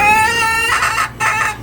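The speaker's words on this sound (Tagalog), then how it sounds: "Babaeng manok." A hen on a rooftop urban farm clucks close by with a drawn-out tonal call, then gives two shorter clucks in quick succession.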